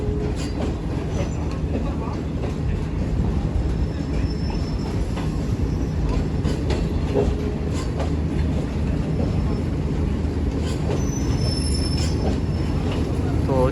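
A train rolls through Karachi Cantt railway station with a steady rumble of wheels and coaches and occasional high wheel squeals, continuous and moderately loud, with faint voices in the background.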